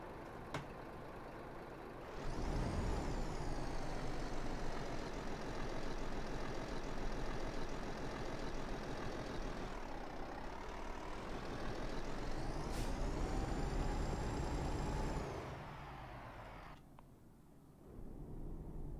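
A Volvo truck hauling a 45-tonne payload with a 6-speed transmission in Euro Truck Simulator 2 revs loudly and steadily after a sharp air brake hiss, its engine note dipping and climbing, then another brake release before the engine drops to idle.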